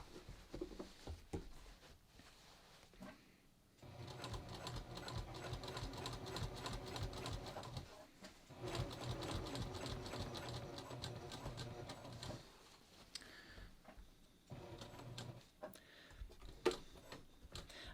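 Sewing machine stitching along the edge of a skirt made from jeans, running in steady rapid bursts separated by brief pauses, close and fairly quiet.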